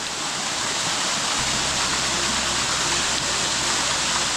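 A waterfall at Koh Samui pours over and around boulders, giving a loud, dense, continuous rushing roar. A deeper low rumble swells in partway through, with no voices.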